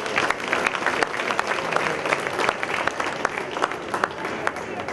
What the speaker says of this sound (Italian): Quindi veramente un grosso applauso di sostegno.